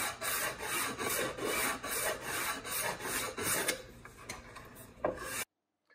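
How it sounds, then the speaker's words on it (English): Steady back-and-forth rasp of sandpaper rubbing the edge of a wooden box, close and continuous for several seconds before cutting off abruptly. "Come back and sanded it a little bit. Make it nice and soft."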